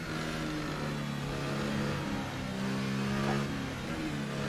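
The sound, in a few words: McLaren F1 car engine at Monaco in F1 2018 video game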